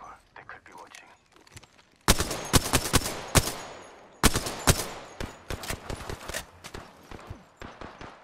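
Enemy gunfire in the video game Apex Legends comes in sharp bursts of rapid shots, loud and fairly close, with short pauses between volleys and faint voices in the background.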